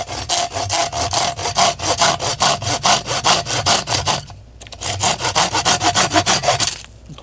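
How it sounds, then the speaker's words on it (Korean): A hand saw cuts a block into small cubes in steady back-and-forth strokes, close and loud, with a brief pause midway before the rhythmic rasping resumes. "톱질을 하면 돼요. 이렇게 깍둑썰기로."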